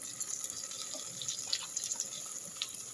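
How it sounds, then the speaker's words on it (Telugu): Water poured from a vessel onto rice in a pot for chicken biryani, a steady close splashing trickle with small drips, alone without talk. "దానికి సరిపడి నీళ్ళు పోస్తున్నాను"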